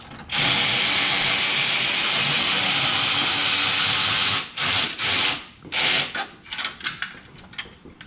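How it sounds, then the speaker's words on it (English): Transmission bolts on a 2008 Ford Mustang GT are undone with a power tool: a steady four-second whirring buzz, then several short bursts and bits of rattling, close and loud. "I'm gonna go ahead and undo these bolts and see about lowering the transmission a bit"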